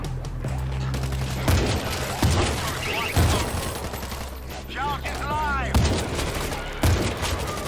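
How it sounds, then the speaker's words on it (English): Machine pistol gunfire in the zombie shooter World War Z crackles in repeated rapid bursts over a busy, loud mix, with voices talking in between volleys. "Machine pistol."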